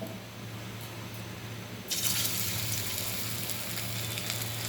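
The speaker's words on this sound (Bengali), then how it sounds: "একটা করে এর মধ্যে ছাড়া হবে, আর একটু ভেজে ভেজে তুলতে হবে" Chicken pakora pieces sizzling in a small amount of oil, a steady hiss that swells loudly partway through as more batter goes in, continuing bright and crackly with no talk.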